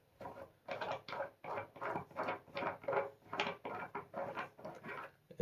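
An adjustable wrench turning a faucet stem loose, a quiet series of rhythmic ratcheting squeaks and scrapes, about a dozen short strokes close by with no talk.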